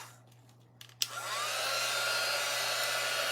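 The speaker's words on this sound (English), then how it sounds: "you can hit it with a dryer if you want real quick" A hair dryer switches on after a few soft handling clicks and then blows steadily and loudly, close by, with no talking over it.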